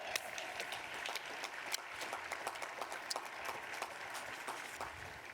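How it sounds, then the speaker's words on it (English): A commencement audience claps for faculty and staff at a law school graduation, with sparse scattered claps at moderate distance that sound light and thin. "please applaud."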